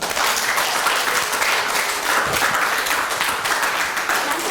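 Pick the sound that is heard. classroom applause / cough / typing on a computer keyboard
classroom applause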